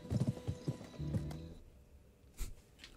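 Horse hooves clip-clopping and a whinny in the PS2 western video game Gun, a quick run of close hoofbeats followed by a neigh, then a faint thud.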